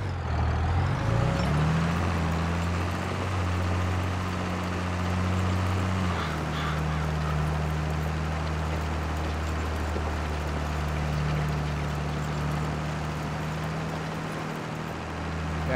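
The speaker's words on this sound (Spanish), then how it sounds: "ahí los dejé para que ustedes escucharan un buen rato el sonido de tractor, que va revolucionadito, va aplicando fuerza" A Ford tractor engine works hard pulling a plough through farm fields, a loud steady low drone with deep harmonics that shifts pitch around six seconds, then holds a constant revving load throughout.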